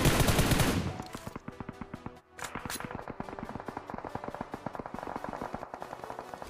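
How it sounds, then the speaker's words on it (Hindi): Gunfire in PUBG Mobile, a loud opening burst followed by a steady stream of rapid, closely spaced shots and a brief gap, continuing as quick automatic fire throughout. "भाई बिल्कुल पास से गोली चल रही थी यहाँ पर"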